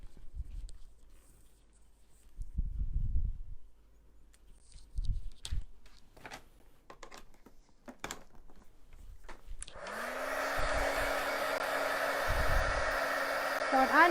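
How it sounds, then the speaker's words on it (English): A handheld craft heat tool used to heat-set embossing powder while making greeting cards. Soft handling knocks and clatter come first, then the tool switches on with a motor whine that climbs in pitch and settles into a loud, steady blowing roar until the end. "I'm just going to grab my heat tool and heat set that. So there will be a bit of noise for a few seconds"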